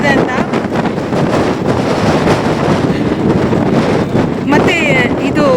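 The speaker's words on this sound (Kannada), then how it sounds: "ಗಾಳಿ ನೋಡಿ, ಸೌಂಡ್ ಕೇಳಿಸ್ಕೊಳ್ಳಿ ಗಾಳಿದು ಹೆಂಗ್ ಬರ್ತಾ ಇದೆ ಅಂತ." Strong monsoon wind roars across the hills of Chikkamagalur in mist and drizzle, a loud continuous buffeting gust against the microphone, with brief human voices faintly under it.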